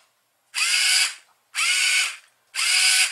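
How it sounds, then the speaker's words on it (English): Small DC gear motors of an Elegoo smart robot car kit spin the wheels in three separate whirring bursts, each about half a second long, with short silent gaps between them, close up and alone. "So now let's turn it on, and we should now see both of these tires move in the counterclockwise direction first"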